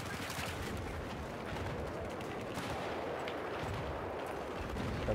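Gunfire in Battlefield 4 on the Sunken Dragon map, a steady, dense rattle of shots and blasts that stays loud throughout, while a player's voice is faintly mixed in.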